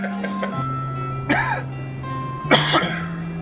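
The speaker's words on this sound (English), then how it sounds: "Daddy's got a bit of a cough." A man in a home-brewing space coughs twice, two sharp raspy bursts spaced about a second apart, close to the microphone over a steady background hum.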